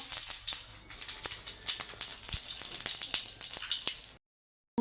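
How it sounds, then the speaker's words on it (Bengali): Cumin seeds fry in hot oil in a pan with a quiet, crackling sizzle scattered with tiny pops, then cut off abruptly into silence near the end. "গরম হয়ে গেছে, জিরে ফোড়ন দিয়ে দেবো।"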